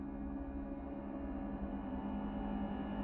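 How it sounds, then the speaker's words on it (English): Percussion stretched out by Kontakt's granular engine becomes a low, steady, droning texture with a faint grainy flutter, sustained and moderately quiet throughout. "Another way to make sounds longer is to slow them right down."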